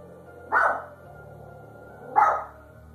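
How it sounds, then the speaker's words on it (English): A dog indoors lets out two loud, separate barks about a second and a half apart, close to the microphone, with a low steady hum underneath and no talking. "the dog becomes alert, barking at something unseen by the camera or the owner"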